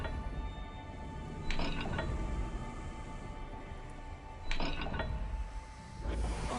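A dial lock mechanism in the Hogwarts Legacy video game turns with ratcheting clicks and grinding gear noises over a low rumbling ambience, with two louder bursts of clacking a few seconds apart.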